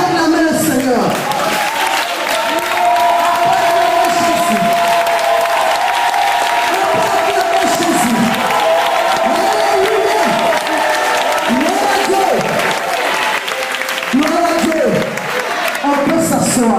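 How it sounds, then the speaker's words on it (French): A church congregation at a Sunday service applauds and cheers loudly and steadily, with a dense crowd roar that holds throughout, mixed with voices. "Tu peux acclamer le Seigneur."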